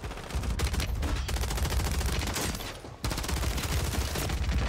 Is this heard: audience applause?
no